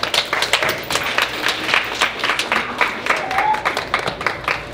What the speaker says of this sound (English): so cheerleaders, clap that up.